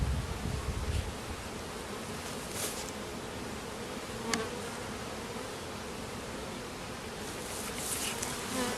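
Bees buzz densely during a beehive inspection, a continuous close hum with occasional louder passes of individual bees, with no talking.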